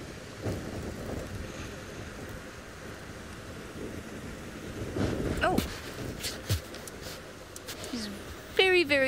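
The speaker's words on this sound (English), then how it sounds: "Windy." Steady wind gusts rush across an open microphone on an evening safari drive, with rustling and low rumbling throughout and a few brief chirps near the end.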